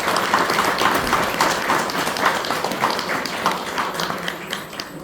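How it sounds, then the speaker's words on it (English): Audience applause at a Hmong senior center in Minnesota during an anniversary gathering, a steady dense patter of many hands clapping for about five seconds, fairly loud and close, with no talk over it. "I would like to have a big round of applause for this 15 years."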